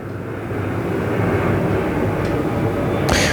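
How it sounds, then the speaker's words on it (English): A big airplane drones overhead outdoors along a walking path, a steady broad rumble that swells slightly as it passes, loud and continuous with a brief brighter whoosh near the end. "Every time I film a video, there's always an airplane."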